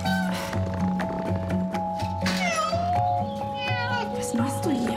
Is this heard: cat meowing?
yes